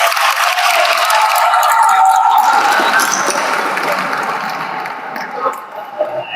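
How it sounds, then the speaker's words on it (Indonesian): A school assembly audience claps in a loud, dense burst of applause that fades gradually, leaving a few scattered claps near the end. "Tepuk tangan."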